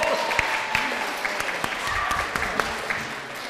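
A school auditorium audience claps steadily for high school debate teams, a dense, even wash of applause with a few louder individual claps standing out, lasting a few seconds.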